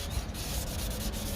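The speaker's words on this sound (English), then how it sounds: "hit it with the sandpaper, or the wet and dry" Wet and dry sandpaper rubs back and forth on a chrome exhaust tip of a BMW 525i M Sport E60, a short, quiet, continuous scratchy scraping close up with no talking.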